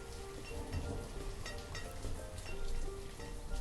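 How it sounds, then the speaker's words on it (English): Steady rain falls in the Banished city-building game in late autumn, a continuous soft hiss of drops with slight swells and no voices. "It is currently raining and not snowing."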